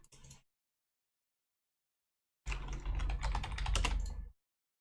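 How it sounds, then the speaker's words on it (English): Fast typing on a computer keyboard: a brief patter of keys, then silence, then a denser burst of clattering keystrokes lasting about two seconds, close and fairly quiet. "Am I not typing it properly?"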